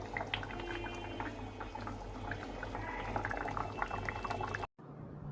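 A pot of dal with a fish head bubbles on the stove, a dense continuous simmering burble with small pops, ending abruptly in a brief cut before a quieter tail.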